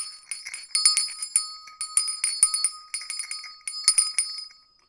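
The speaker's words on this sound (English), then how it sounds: "Ringing that bell." A small bell rung repeatedly in quick clusters, bright ringing strikes with a metallic jingle, close and clear, alone without voices, fading out at the end.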